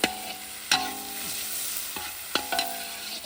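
Tomatoes fry on a hot griddle for kothu parotta, a constant sizzle broken by a few sharp metallic clanks of a spatula against the iron surface, close and fairly loud.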